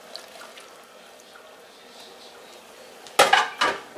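Two tins of beans are emptied into a pot of chili on the stove: after a quiet lead-in, two wet, splashy plops land close together near the end.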